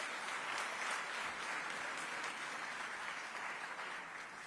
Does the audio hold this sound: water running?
no